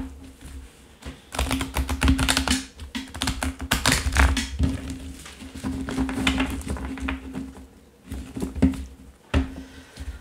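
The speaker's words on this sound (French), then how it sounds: "Maintenant, on va mélanger le jeu." Tarot cards being shuffled by hand: a steady run of soft, dense riffling and tapping patter that continues for about ten seconds, fairly close and loud, with brief pauses between bursts.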